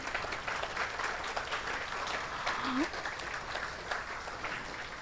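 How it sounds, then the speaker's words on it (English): A roomful of guests at an annual dinner breaks into sustained applause, dense clapping with a few cheers mixed in, moderately loud and steady throughout. "So, a big round of applause."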